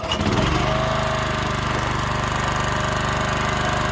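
A small lawn mower engine catches and settles into a loud, steady running chug, close by, with no talking.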